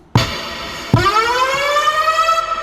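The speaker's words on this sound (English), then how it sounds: "Maybe even put the siren on there." A siren sample is triggered twice on an MPC sampler, each hit starting abruptly and rising into a loud, sustained wail, the second one ringing on to the end.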